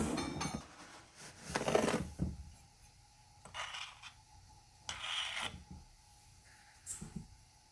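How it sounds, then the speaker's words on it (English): Granulated sugar pours and rasps from a dry measuring cup into a bowl in short gritty bursts with gaps between them, close and soft, with faint light clinks. "We're going to be using that to get the sugar. Put that into the bowl."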